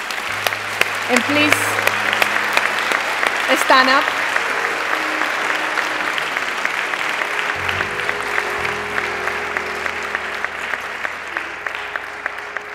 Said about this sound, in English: I would like to just give a round of applause to all our winners tonight.